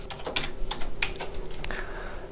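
Fingers type on a computer keyboard, giving a quick, uneven run of close, crisp key clicks with short pauses between bursts and no talking.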